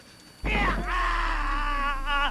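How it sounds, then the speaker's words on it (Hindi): A loud, sustained scream from the horror video game Outlast: Whistleblower bursts in suddenly and holds for about two seconds over a low rumbling background. "कौन चीख रहा है ये?"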